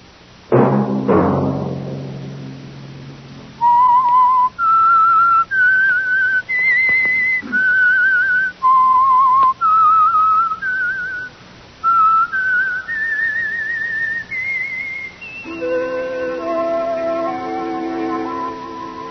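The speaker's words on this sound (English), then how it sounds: "Let that whistle be your signal for the Whistler each Sunday night at this same time." A lone human whistler performs the signature melody of a 1950s radio mystery drama, with a swooping opening, a run of clear sustained notes climbing step by step, and a fuller orchestral chord at the close.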